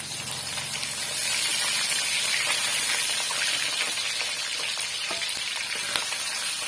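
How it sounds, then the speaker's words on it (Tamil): Green chilli and crushed ginger sizzle in hot oil in a pan, a bright continuous crackling fry with occasional sharper pops, steady and close, with no talking. "சேர்த்துட்டு நல்லா வந்து மிக்ஸ் பண்ணி கொடுத்துக்கோங்க பாருங்கள் அளவுக்கு எல்லாம் நல்லா ஃப்ரை ஆகிட்டு வந்துடுச்சு"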